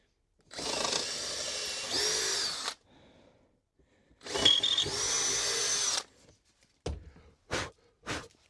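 A power drill with a 6mm wood bit bores into wood in two long, loud bursts, then three quick short whirs follow with brief quiet gaps between them.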